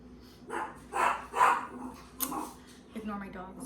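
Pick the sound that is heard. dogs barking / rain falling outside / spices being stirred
dogs barking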